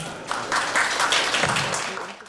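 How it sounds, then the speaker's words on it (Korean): An audience at a developer conference session applauds to welcome a presenter, with a brief burst of clapping that swells and then fades over a couple of seconds. "큰 박수로 환영 부탁드립니다"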